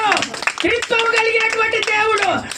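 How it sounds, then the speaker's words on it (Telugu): A church congregation claps in a quick, steady rhythm during worship, the claps close and loud under a raised, chanting voice. "కొట్ట చప్పట్లు."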